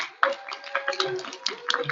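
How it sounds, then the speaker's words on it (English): A small group at a Ramadan festival quiz event claps briefly, a short burst of scattered hand claps starting abruptly and running for under two seconds. "Should we do a big clap for ourselves?"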